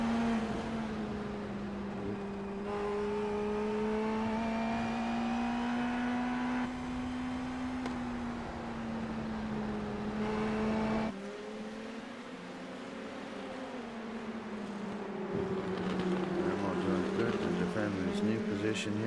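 IndyNXT race cars in the iRacing sim at Mt. Fuji, high-revving engines droning steadily with shifting pitch as cars run side by side, one blistering past, with commentators talking over the engine noise.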